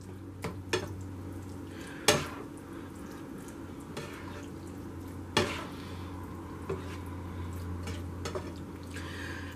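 A spoon stirs meat back into a shepherd's pie mixture in a pan, with a low sizzle underneath and several sharp scrapes and clinks against the pot at irregular intervals.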